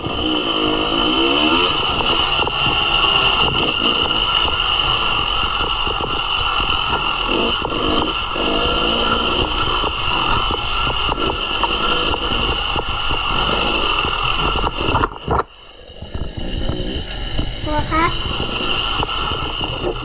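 A dirt bike engine drones loudly and steadily as the bike rides over rocks and speed bumps on a trail, with a brief dip near the end before the engine roars back, and voices talk over it.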